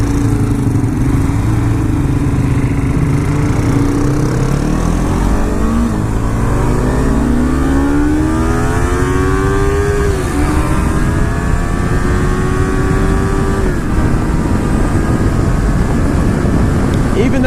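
A Yamaha R3 motorcycle accelerates hard up a highway on-ramp, its engine note climbing in rising sweeps through the gears, loud and close over steady wind roar.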